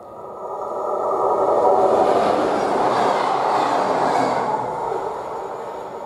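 Trains at Keleti railway station in Hungary, producing a broad rolling rumble that swells to a loud peak midway and then gradually eases, with no voices over it.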